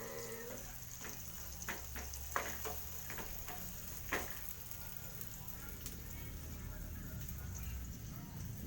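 Onions fry quietly in a pan, a faint, steady sizzle broken by several sharp scraping stirs, with a low background hum throughout.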